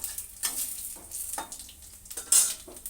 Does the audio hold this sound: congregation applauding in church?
no